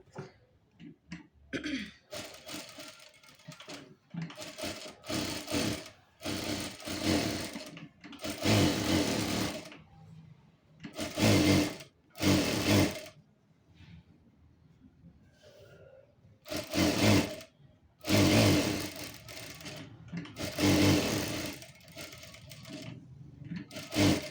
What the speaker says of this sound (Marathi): आता टीप मारून घेऊयात आपण